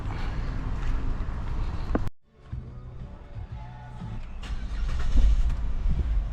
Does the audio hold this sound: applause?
no